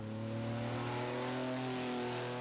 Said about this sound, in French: Stéphane Pétré a poursuivi son apprentissage de la rutilante Porsche 935